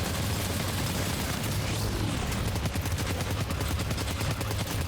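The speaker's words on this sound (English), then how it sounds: "the fact that the Magellan's guns are back online" Heavy gunfire from the Magellan's mounted guns in Death Stranding 2, a loud continuous rattle of rapid shots over a deep rumbling roar, with no pauses.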